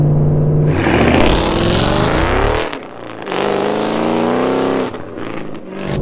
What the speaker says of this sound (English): we can thank that to an off-road H-pipe and a Corsa Extreme exhaust